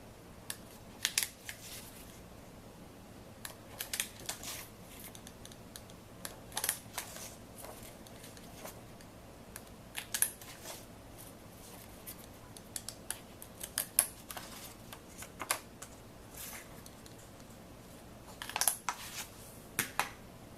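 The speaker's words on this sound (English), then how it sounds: "I'm just going to punch out of this, and this is Christmas paper" A handheld paper punch clicks repeatedly through sheets of Christmas wrapping paper, punching shapes one by one in an irregular rhythm of crisp, close snaps over a quiet room.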